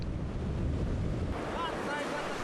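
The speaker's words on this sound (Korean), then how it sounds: "저 높은 파도를 넘으려나 봅니다" Rough sea with surf crashing and rushing continuously, mixed with heavy wind buffeting the microphone; a faint engine-like tone rises near the end.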